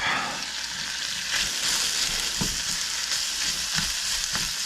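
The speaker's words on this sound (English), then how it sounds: "Now we're just gonna add the onions in." Onions hit a hot pot for a spicy Korean soft tofu stew, giving a steady close-up sizzle with a few sharp stirring knocks and scrapes.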